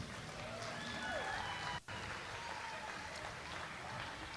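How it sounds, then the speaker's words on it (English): Audience at Australia's Strongest Woman middleweight contest applauding the women competitors, a steady wash of clapping across the whole stretch with a brief dropout partway through. "So a round of applause for our ladies."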